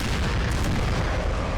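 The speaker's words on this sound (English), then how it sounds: "Cannon fire there took out multiple troops." Cannon fire rumbles across a Napoleonic-era battlefield in Napoleon: Total War, a deep booming artillery barrage with sustained low rolling thunder and distant rumble filling the whole stretch, no voices.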